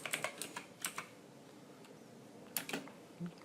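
A computer keyboard being typed on at a Windows PC, a few quick bursts of close, light key clicks with short pauses between, quiet and with no voices.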